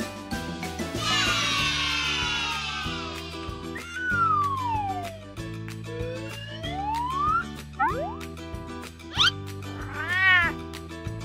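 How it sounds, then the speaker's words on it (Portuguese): Backing music with bouncy, sliding whistle tones, ending with a short, clear cat meow. "É um gato."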